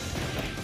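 A hard punch lands during a Naruto anime fight, a dense smashing thud with a heavy low body, loud and continuous across the moment with no talk over it.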